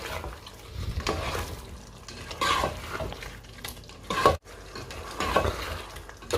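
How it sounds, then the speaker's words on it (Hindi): Chicken karahi with ground coriander and chili flakes is stirred in a hot pan, a continuous close scraping and sizzling with occasional sharper knocks of the spoon against the metal. "सारे को मिक्स कर लूँगा मैं।"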